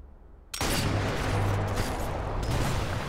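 Gunfire from the Sniper Elite 4 video game: after a quiet half second, a loud sudden blast gives way to dense, sustained rumbling fire and booms that continue to the end.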